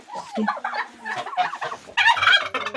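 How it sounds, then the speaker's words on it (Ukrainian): Barnyard fowl sounds near a young rooster, with gobbling and clucking calls in quick uneven bursts, close and fairly loud, louder toward the end. "Півничок. Молоденький."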